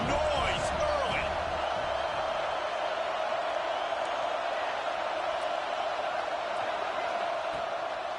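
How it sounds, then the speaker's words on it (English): A loud, steady roar of a big stadium crowd at a college football game, sustained and dense throughout, with faint shouts poking through. "This crowd bringing the energy and noise early"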